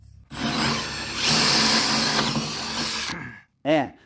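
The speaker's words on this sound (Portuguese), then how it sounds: "agora vou furar o resto deles" A power drill boring holes on a boat, a close steady whine that rises in pitch midway and cuts off, followed by a short spoken word.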